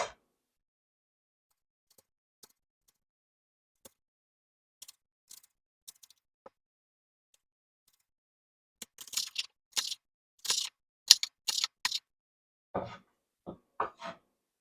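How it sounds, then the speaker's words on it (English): Knife cutting onions on a board, faint isolated taps at first, then a close burst of quick, crisp chopping strokes in uneven runs. "You want to cut your onions."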